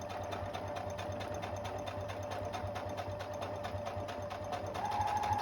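A home sewing machine stitching slowly through quilt fabric while snowballing corners, a fast, even mechanical whir with regular rapid needle clicks that gets a little louder near the end.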